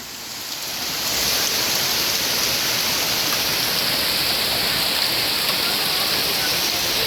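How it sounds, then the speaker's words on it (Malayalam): Hailstones fall outdoors onto open ground, a dense, steady hiss that swells within the first second and then holds loud and unbroken. "ഇവിടെ നിറച്ചും നിങ്ങൾക്ക് വീണോണ്ടിരിക്കുവാണ് ഗൈസ്"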